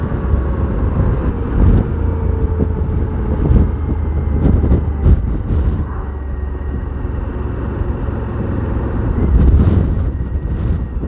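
Suzuki V-Strom 1000 motorcycle pulling hard in fifth gear, a steady low engine drone with heavy wind buffeting on the microphone, loud and continuous throughout.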